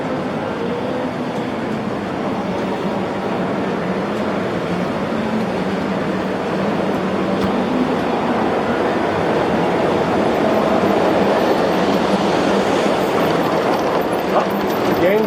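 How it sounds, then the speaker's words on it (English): A G gauge model Christmas train runs around a large indoor layout, giving a steady, continuous rumble and faint clicking of small wheels on track, moderately loud against a busy room background throughout. "Again, the Christmas train"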